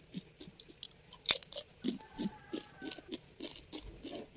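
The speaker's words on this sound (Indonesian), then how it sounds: "Bisa didengar ya suaranya. Itu renyah banget." Loud, close crunching bites of crispy battered fried fish followed by steady rhythmic chewing, with no talking.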